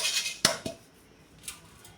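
Churumuri puffed rice is shaken in a sieve to remove dust, giving a few short, light rattling clinks against a quiet background with no talking.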